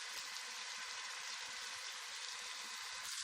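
Ingredients for a mixed lentil dish frying in a pan, a steady close hiss and crackle of hot oil sizzling without pause.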